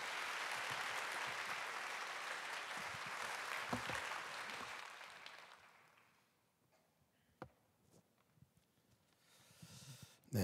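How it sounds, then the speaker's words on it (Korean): Loud, dense applause from a large church worship congregation welcoming a pastor, fading out after several seconds, leaving near silence with a few scattered taps. "나오실 때 큰 박수로 환영해 주시기 바랍니다"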